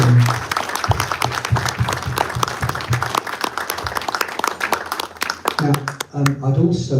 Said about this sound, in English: give Kim a round of applause